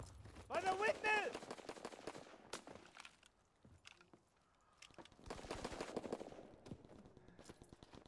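Aircraft strafing run in a video game: bursts of rapid machine-gun fire rattle in two loud clusters, with scattered single shots and a quieter lull between them, plus a brief voice-like game sound early on.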